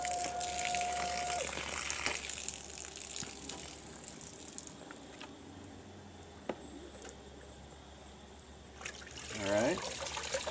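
A LEO 1/6 HP 18-volt lithium battery utility pump draws water from a 35-gallon garbage can, giving a steady motor hum with continuous trickling and splashing water, while a person talks over it.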